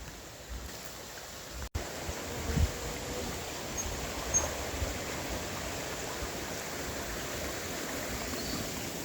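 A river in Jamaica flows with a soft, even rush of clear water, fairly faint and steady throughout, with a sharp click near the start.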